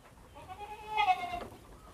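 Goats on a Thai goat farm give a faint, brief bleat or two at a distance, with no talk over them.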